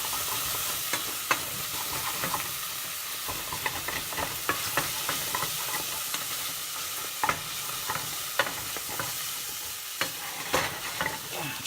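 Bacon frying in a pan, a constant close sizzle broken by frequent sharp pops and spatters, no talking.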